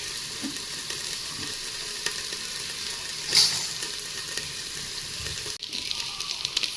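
Mangalore-style chicken curry or mackerel fish fry sizzles in a pan, giving a steady close hiss throughout with a brief louder spatter partway through.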